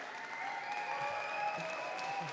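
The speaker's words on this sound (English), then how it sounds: "Please give him a big round of applause." Steady applause from a conference audience greeting the host taking the stage at a mainstage event, a dense even wash of clapping held at one level throughout, with faint voices and tones underneath.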